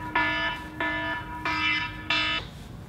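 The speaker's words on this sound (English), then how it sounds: "alarm went off" An alarm goes off in four evenly spaced, harsh buzzing tones, each about half a second long. No one speaks.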